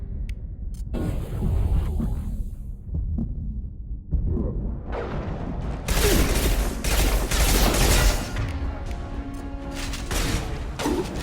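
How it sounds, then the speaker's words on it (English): Heavy gunfire in the video game Mass Effect 2 rattles through in dense bursts that start partway in and build into sustained, loud volleys, over a rumbling game soundtrack. "Taking heavy fire!"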